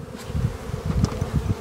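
Honey bees buzz close and loud around a hive in an apiary while winter feed is being put on, making a dense, continuous hum with individual bees flitting past.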